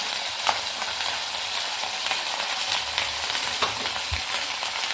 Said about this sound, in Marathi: असे मी चार गोळे घालून तळून घेणार आहे